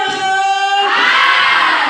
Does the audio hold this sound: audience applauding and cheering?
yes